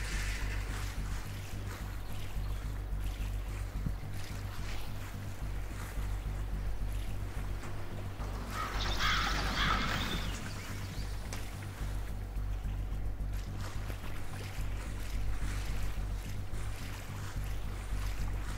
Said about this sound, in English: Stealth canoe.